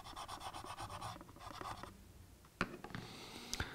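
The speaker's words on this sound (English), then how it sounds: "go back to the T-cut just to remove the numbers" Model locomotive paintwork rubbed with T-Cut polish to strip off white numbers, a soft, continuous scratchy rubbing in repeated strokes, close and quiet, with a couple of sharper knocks near the end.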